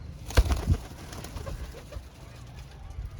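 Soft pigeon coos in short bursts near the start, with a few light flutters and rustles, then quieter background.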